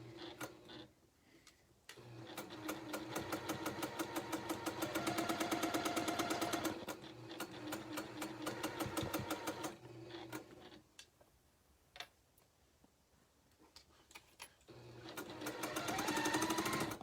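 A sewing machine stitching a quilt block, running in rapid, steady bursts of mechanical clatter separated by short pauses, close and clear with no talking.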